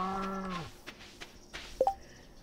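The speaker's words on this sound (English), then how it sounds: "I think we can milk our cow today." A cow moos in Stardew Valley, one long low call with a steady harmonic tone lasting under a second, followed by a few soft game clicks and two short bright chime-like blips.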